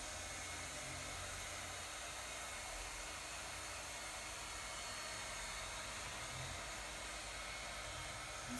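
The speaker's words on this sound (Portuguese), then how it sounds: "meus dois pedaços de borracha, eu passo o ar quente em cima" A hot air blower roars steadily as it warms dried glue on two rubber pieces, producing a constant, even, dryer-like whoosh with no pauses.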